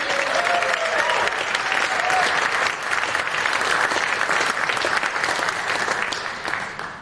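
A big round of audience applause at a nonprofit celebration, dense continuous clapping, with some cheering mixed in, that holds steady and then starts to fade near the end.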